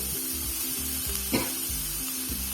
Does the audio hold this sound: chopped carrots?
yes